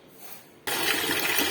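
Tap water suddenly gushes on at full force for rinsing mustard greens with a little mint, a loud steady splashing stream after a brief quiet start.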